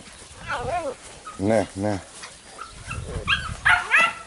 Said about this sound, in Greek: Να τώρα βέβαια με παίζουν το σκυλάκι.